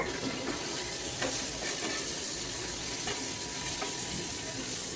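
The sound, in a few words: egg being fried (bhuna) in a pan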